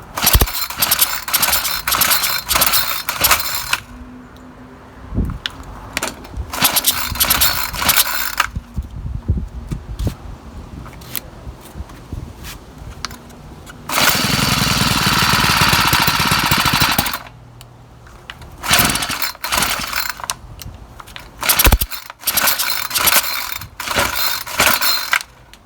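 Someone repeatedly tries to pull-start a 4-cycle string trimmer without pulling the throttle. Close, rattling pull-cord bursts alternate with short sputtering catches, and one steadier run of engine noise lasts about three seconds midway.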